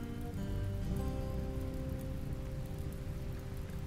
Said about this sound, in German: Und es regnet, das ist ja cool.